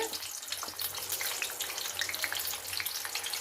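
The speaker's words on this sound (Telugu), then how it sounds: "పది వంకాయలు అండి ఇలా నూనెలోకి వేసేసుకోవాలి ఇలా అలాగే నూనె కాగిపోయిందండి" Ten whole eggplants drop into hot oil for masala vankaya bonda, setting off a dense, crackling sizzle that stays loud and continuous throughout, close up with no voices.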